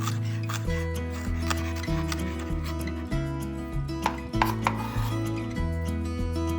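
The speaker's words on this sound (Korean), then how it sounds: "쪽파 더 다져줄게요." A kitchen knife chops green onions (scallions) on a cutting board in quick, irregular sharp taps, heard under steady background music with no one talking.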